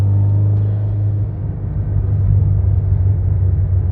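A 2012 Subaru WRX STI with upgrades idles and lightly revs close by, a steady deep rumble with a strong low drone that swells slightly midway, heard alone without voices.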